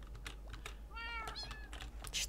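A cat in the Minecraft video game gives one short meow, close and clear, between busy computer keyboard clicks and clacks.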